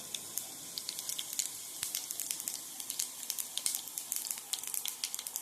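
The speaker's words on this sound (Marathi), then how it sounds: "तेल टाकून घेतले त्याच्यात टाकूया आपण जिरे" Cumin seeds sizzle in hot oil for an okra dish, a quiet close crackle of rapid irregular pops and spits over a soft steady hiss.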